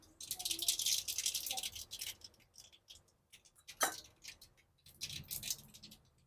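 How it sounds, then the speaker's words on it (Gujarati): Mustard seeds dropped into hot oil for tempering crackle and pop in quick, irregular bursts, close but fairly quiet. "તેલ થઈ ગયું ગરમ એમાં આપણે નાખી દેવું રાઈ"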